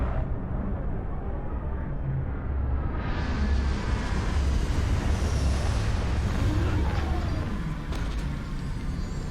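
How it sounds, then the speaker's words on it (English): Spaceship retro thrusters fire during a landing in Starfield, a continuous roaring rush of engine noise that swells and brightens about a third of the way in, then holds steady and loud. "Retros firing."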